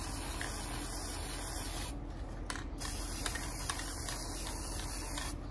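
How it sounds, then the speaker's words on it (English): A spray paint can hisses steadily nearby while coating the edges of a picture on a DIY rolling tray, with one brief pause and a few faint rattles. "But the spray paint is all I have right now."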